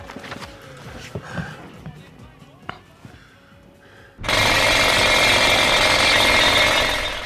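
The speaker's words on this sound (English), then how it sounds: "please excuse the drilling" After some quiet talk and clatter, a loud, continuous power drill starts up nearby and runs steadily.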